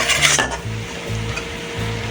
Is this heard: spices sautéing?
yes